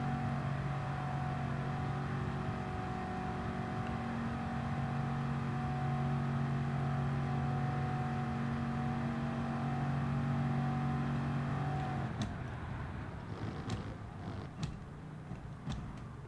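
A Bugatti Veyron race car in Gran Turismo Sport runs at a steady, loud engine drone with a sustained tone. Near the end the pitch drops sharply as the car slows, with scattered clicks and creaks.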